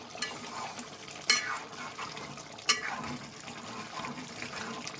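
Chopped coriander is stirred into a chicken gravy in a pan, with steady scraping strokes, a faint simmering sizzle and two sharp metallic clinks of the spoon against the pan.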